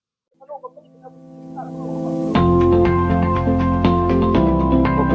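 Chickens and roosters at a backyard game farm, with a few clucks at first, then a loud, dense burst of crowing and squawking from close birds that carries on steadily.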